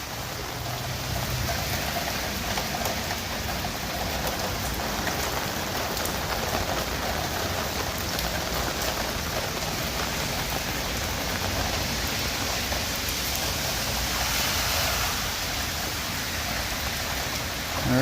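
Heavy rain pours steadily over a downtown street in North Bay, a dense, continuous hiss that stays loud and even throughout, with no voices.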